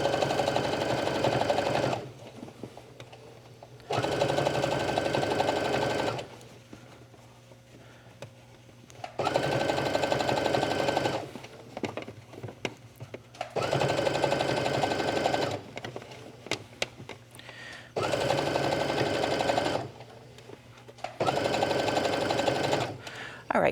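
A sewing machine stitches stretchy yoga pants fabric in several long runs of steady, close whirring, separated by short pauses where the fabric is adjusted.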